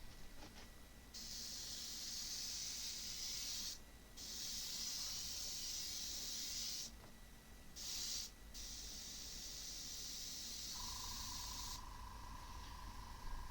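A cheap dual-action airbrush sprays black primer onto canvas in steady hissing bursts, with a few short pauses between passes and a low compressor hum underneath, ending with a faint tonal whine.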